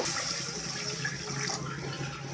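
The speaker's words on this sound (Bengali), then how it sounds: "আমরা ঝোলের জন্যে জল দিয়ে দিচ্ছি" Water pours steadily into fish curry in a pan to make a thin broth, a continuous close splashing gush with no talk.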